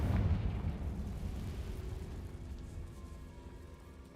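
A Confringo spell explosion in Hogwarts Legacy sets off a deep, rumbling blast that starts loud and slowly fades over several seconds, heavy low booms with no speech over it.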